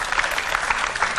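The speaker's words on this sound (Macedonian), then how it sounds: "Да чујам силен аплауз" Audience applause at a school event, a dense, steady clapping from a crowd filling the whole moment, loud and close.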